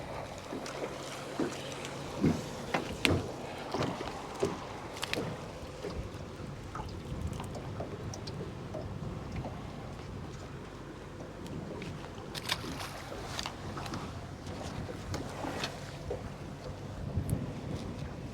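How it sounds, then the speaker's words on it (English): Steady wind rushes across a lake around a small fishing boat, a continuous low roar with soft gusts, scattered knocks and water sounds close by, and no talking. "that wind's starting to get a little stronger than I like to see it"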